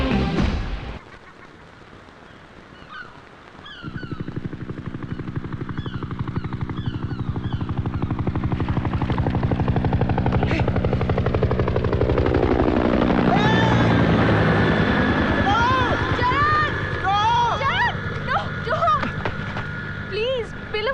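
A helicopter in a film search scene set in Thailand rises from a quiet start into a loud, continuous rotor drone that holds to the end, with other sounds over it.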